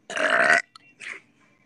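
A teenage girl lets out one loud, close burp lasting about half a second, followed by a brief quieter second belch.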